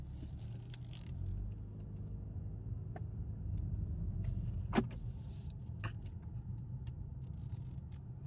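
Volkswagen Jetta GLI car pulling away at night, a steady low engine rumble and road noise building gently with a few small ticks and one brief sharp click, heard from inside the cabin with no talk.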